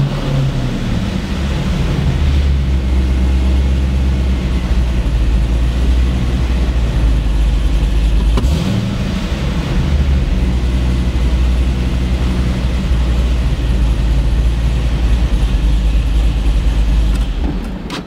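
A GM Gen III LSx V8 idles steadily with a loud, deep rumble up close, and a sharp throttle blip partway through briefly raises the revs before the engine settles back to idle.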